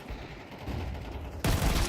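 UMP submachine gun fire in a video game crackles as a dense burst of rapid shots, loudening sharply partway through into a harsher, closer volley with no talk over it.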